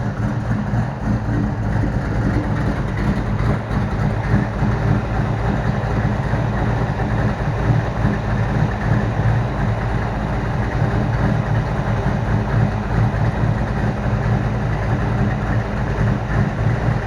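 Big block Chevy engine with two carburetors runs in a 1933 Pontiac. It gives a loud, steady, low rumbling idle that carries on without a break, up close and alone.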